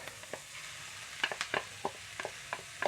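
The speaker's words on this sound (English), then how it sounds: "the onions have softened up a little bit, so now in goes the ground meat." Ground meat dropped into a pan over softened onions, with a low steady sizzle broken by scattered scraping and stirring clicks from a utensil, close up and moderately quiet.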